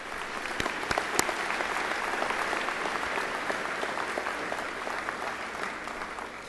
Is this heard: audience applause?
yes